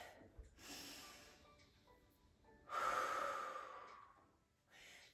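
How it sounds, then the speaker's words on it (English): During a prenatal exercise class, a person lying on their back takes a deep breath: a soft inhale, then a longer, louder exhale close to the microphone, with quiet breathy sounds around it. "Take a deep breath here."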